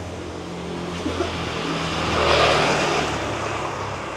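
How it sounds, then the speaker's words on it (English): Traffic on a narrow side street in Bali, a continuous motor rumble with one vehicle or moped swelling as it passes close, then easing back into the steady background hum. "there'll be cars and mopeds coming all down here"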